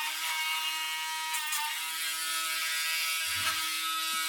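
A Dremel rotary tool grinds a dog's toenails with a steady, high-pitched whine, close and continuous, with a brief lower scrape near the end.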